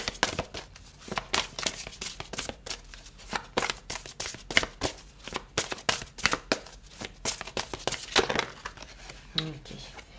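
Tarot cards are handled, shuffled and put away close up, giving quick crisp riffles and papery slaps. Someone speaks throughout.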